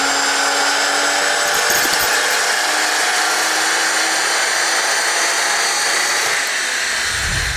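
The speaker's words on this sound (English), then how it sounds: "So we'll do some base runs on a stage 2 calibration that's nice and consistent with 0 timing pull." A BMW M240i with a stage 2 tune roars on a dyno during a base run on 99 RON fuel, a loud, steady, high-revving engine drone that holds for several seconds before easing slightly at the end.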